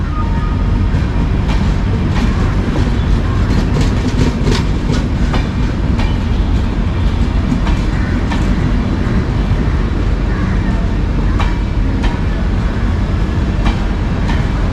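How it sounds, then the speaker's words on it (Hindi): The Gorakhpur Mailani Express with new LHB coaches runs at speed, a loud, continuous rolling rumble with steady rhythmic wheel clicks over the rails, heard from inside the train. "गोरखपुर मैलानी एक्सप्रेस जो कि सीतापुर लखीमपुर होते हुए मैलानी तक जाएगी।"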